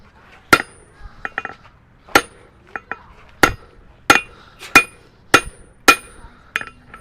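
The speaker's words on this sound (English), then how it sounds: "You'll see by hitting it over the edge of the anvil." Hammer blows ringing on hot steel stock held over the edge of an anvil during a blacksmithing demo, about nine sharp metallic strikes at uneven intervals, some single and some in quick pairs, close and clear.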